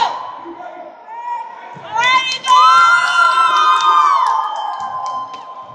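At a high school boys basketball game, cheerleaders and the crowd yell and cheer in loud, rising shouts that swell and hold for several seconds, with excited voices close by.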